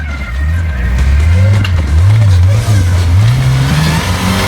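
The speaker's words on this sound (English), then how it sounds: "So this thing's turbocharged. You'll hear the wastegate firing off as he goes through." A turbocharged off-road race car on an Ultra4 course revs hard, its engine note rising and falling continuously with sharp wastegate chatter, loud and close with no talk.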